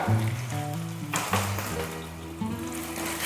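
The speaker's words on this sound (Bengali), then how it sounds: "এবারে ফ্লেমটাকে একদম লোতে করে এর মধ্যে দিয়ে দেব টক দই" Sour yogurt hits a hot pan of prawns over low flame, producing a bright sizzle and crackle that swells and settles in short bursts, with background music tones underneath and no talk.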